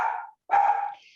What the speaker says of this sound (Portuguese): Esses cachorros aí da senhora não tá ajudando